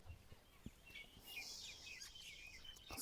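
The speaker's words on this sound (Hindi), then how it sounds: "सिर्फ परिंदों के चहचहाट की आवाज़ आ रही है।" Birds chirp and twitter faintly in the distance, many small high calls overlapping against a quiet outdoor background.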